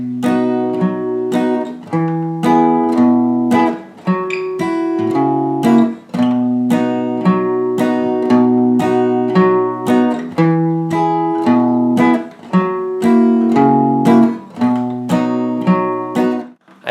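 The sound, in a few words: guitar playing a strumming pattern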